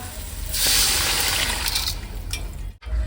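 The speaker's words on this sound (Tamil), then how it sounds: "புளி தண்ணி ஊற்ற போகிறேன்" Tamarind water pours steadily into a hot pan of fish curry for a couple of seconds, a loud gushing hiss over a constant background rumble, close by.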